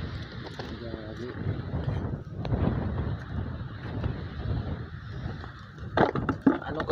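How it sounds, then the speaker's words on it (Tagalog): Wind blows outdoors in a seaside province, rumbling and buffeting with low gusts and a few sharper rustles, while people talk throughout. "ang hangin pala, mahangin dito"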